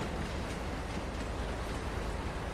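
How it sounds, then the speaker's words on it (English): A train rumbles past in Farming Simulator 22, a steady dense rolling roar with no pauses and no voices. "There's a train."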